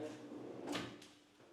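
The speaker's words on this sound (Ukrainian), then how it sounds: "Зручні шухляди." A bathroom vanity drawer slides and shuts with a soft, quiet rub and thump, heard close up and briefly, with faint talk in the background.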